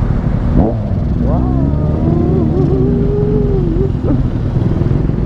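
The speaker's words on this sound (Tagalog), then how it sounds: "Ang lakas-lakas ng motor ni kuya." A big bike's loud engine revs and drones steadily at night on an open road, rising and falling in pitch under brief voices.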